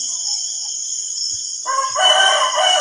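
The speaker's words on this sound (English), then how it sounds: "I know I have a rooster soundbite in here someplace" A recorded rooster crows loudly twice over steady background hiss, a long strained call that rises into a brighter, harsher second crow.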